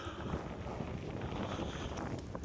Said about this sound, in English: if you can't hear the wind, it's pretty windy